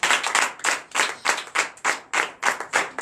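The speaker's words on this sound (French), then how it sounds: "Donnez encore l'acclamation à Jésus" A church congregation in Comé, Benin claps in rhythmic bursts of several quick claps at a time, close and loud, repeating steadily through a night deliverance service.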